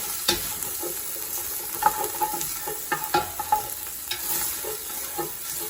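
Ginger, garlic and green onions sizzle in hot olive oil in a pan, with a steady frying hiss broken by scattered clinks and scrapes of stirring.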